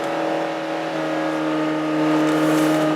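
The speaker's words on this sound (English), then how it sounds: "The engine tone is great too." A 2016 Mazda Miata's engine holds a steady, even drone with clear tonal harmonics, running continuously at moderate loudness with no voices over it.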